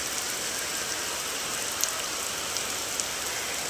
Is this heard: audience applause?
no